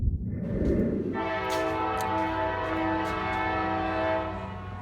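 A passing train sounds its horn loudly and steadily for several seconds over a low rumbling roll of rail cars, close by and without talk.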